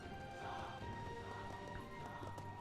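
A horse in Total War: Three Kingdoms gives faint clip-clopping hooves over a dense, low battle din lasting a couple of seconds, with no clear voices.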